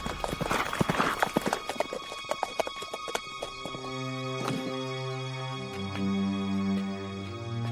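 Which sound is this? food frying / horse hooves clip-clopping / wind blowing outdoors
horse hooves clip-clopping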